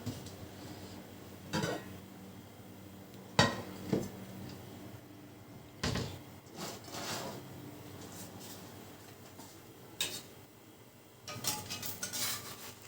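A plate is taken out and set down in a kitchen while flatbread cooks on the stove, giving a few quiet, scattered clinks and knocks against soft background hiss.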